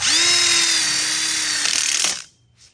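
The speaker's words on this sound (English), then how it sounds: "Look how fast he just screws that in." Cordless drill driving a screw into a metal outdoor kitchen frame, one loud steady whirring run of about two seconds that spins up, holds and cuts off, with no talking.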